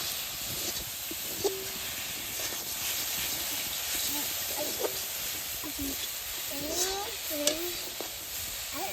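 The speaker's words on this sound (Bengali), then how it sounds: "গুড়টা এইভাবে সুন্দর এখন গালিয়ে নেব।" Jaggery melts and is stirred in a pan for coconut sweets, giving a steady soft sizzle and hiss with scraping strokes and occasional clinks throughout, as a voice talks intermittently over it.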